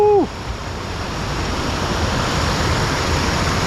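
Rushing water of a glacier-carved mountain brook at close range, a loud, steady, continuous wash that follows a brief high whistling tone at the very start.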